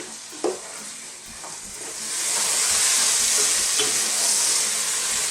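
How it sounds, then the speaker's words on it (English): Onions and beef fry in a pan for an Indian beef curry, a loud steady sizzle and hiss that swells after a couple of seconds, with a sharp stir knock near the start. "Okay, this is frying beautifully now."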